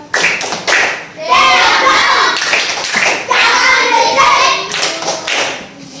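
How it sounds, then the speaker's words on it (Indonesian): Children in a classroom perform the tepuk diam clapping routine, with rhythmic bursts of claps and chanting voices, loud and close, filling the room. "Tepuk diam."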